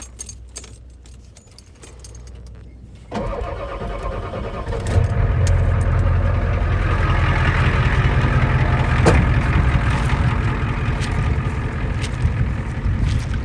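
Truck engine cranks and fires after a jingle of keys, then settles into a steady, loud, close rumbling idle that swells once more as it runs on, with no voices over it.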